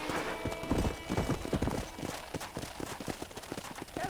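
Steady clip-clop of horse hooves at a walking pace in the video game Red Dead Redemption, fairly close, with no talking.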